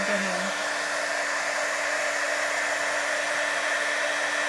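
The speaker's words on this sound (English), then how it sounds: "heat that up with the heating tool" A heat embossing tool blows a steady, loud, whooshing hum as it melts embossing powder on a handmade anniversary card, running continuously up close with no talking.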